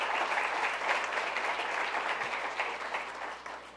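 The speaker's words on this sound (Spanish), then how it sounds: "Un aplauso, por favor." An audience at a school ceremony at a medical technical preparatory school claps steadily for a few seconds, a dense, even round of applause with no talking.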